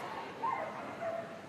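Dogs at a London dog show agility competition give a few short yips and barks over crowd noise, fairly close and moderately loud.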